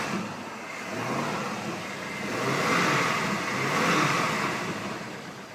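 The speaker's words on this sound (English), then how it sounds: "Rev her up a little bit." A 5.3-litre LS V8 engine in a GM SUV is revved twice, two swelling roars rising and falling over a steady idle, heard from close by with no talking.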